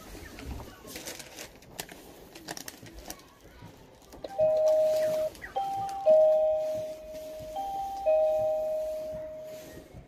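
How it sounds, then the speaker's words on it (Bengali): A doorbell at a customer's house sounds a series of clear electronic chime tones, several notes ringing in sequence over faint street background. "এখন কলিং বেল বাজাবো।"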